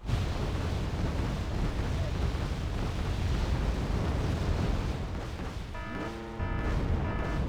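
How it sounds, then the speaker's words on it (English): Artillery in the video game Wargame: Red Dragon keeps up a continuous, loud rolling roar of blasts and booms, with a short tonal whine near the end. "yeah, go ahead, fire that artillery all day."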